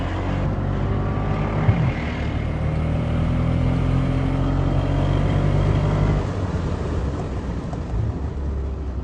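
A sports car, a BMW M6 V12 or Mercedes-Benz SL63 AMG, accelerating hard out of a tight chicane gives a loud, sustained engine roar that builds and holds before easing slightly near the end.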